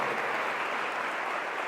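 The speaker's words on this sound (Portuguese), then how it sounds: "Vamos dar uma salva de palmas à palavra de Deus?" A congregation at a church service claps in a dense, even burst of applause that holds steady at moderate loudness from start to finish, with no talk over it.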